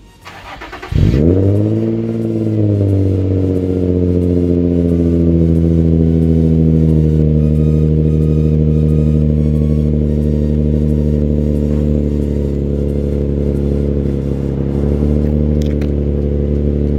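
Infiniti G35 exhaust firing up from a cold start, a loud engine catch followed by a high, steady fast idle with a few light revs, heard from outside the car with no talking.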